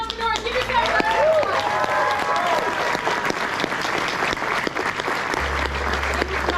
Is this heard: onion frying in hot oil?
no